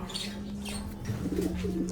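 A pigeon coos softly against a steady low hum and background noise, a short rounded call rising midway through.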